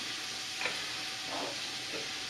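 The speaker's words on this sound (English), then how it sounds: "I'm frying up the hamburger right now." Hamburger meat frying in a pan for homemade chili gives a steady sizzle and hiss, with a few soft scrapes of stirring, close by and without talk.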